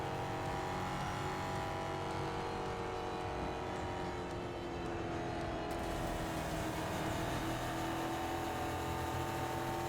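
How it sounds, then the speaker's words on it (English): Racing video game ExoCross with a V8 car engine droning steadily and loud throughout, a continuous revving roar with slight pitch shifts and no pauses. "So that way you still get my V8 motor and all the cool noises"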